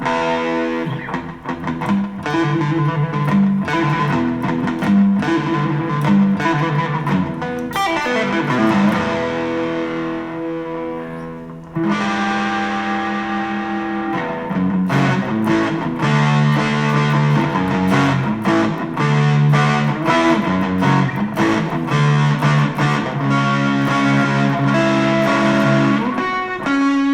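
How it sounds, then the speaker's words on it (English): Electric guitar plays a melodic line with a short 150-millisecond slapback echo repeating each note, recorded through an MPC One Plus, continuous and loud with a brief break partway through. "It's got a Cosmos echo on, just a little bit of echo, real nice 150 millisecond delay"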